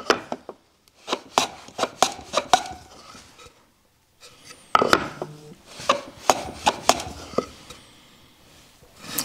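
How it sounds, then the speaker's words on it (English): A chamfer is cut on a wooden drawer part as a string of crisp, close strokes in two bursts, with a short pause between them. "the first thing we wanna do is cut our chamfer on the top"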